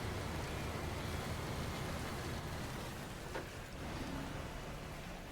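Steady rain falls in the SnowRunner video game, a dense, continuous hiss of even loudness throughout with no talking.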